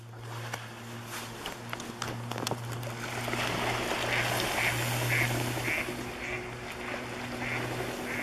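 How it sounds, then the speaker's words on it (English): Ducks gather on the Indian River at Totem Park in Sitka at high tide, with a flurry of repeated quacks rising over steady moving water and a low background hum. "Got a shitload of duckies."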